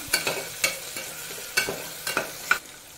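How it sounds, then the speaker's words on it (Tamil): Sliced onion and a single sliced tomato sautéing in a pan, a ladle scraping and stirring in several irregular strokes over a low, steady sizzle, with no talking. "வெங்காயம் இந்த மாதிரி நல்லா வதக்கிக்கோங்க"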